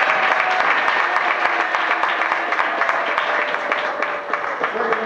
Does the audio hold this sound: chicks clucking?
no